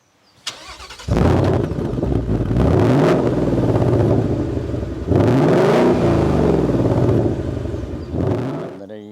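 A 2020 Ford Mustang V8 with four-mode active exhaust fires up, then revs hard a few times with a deep, loud exhaust roar close by.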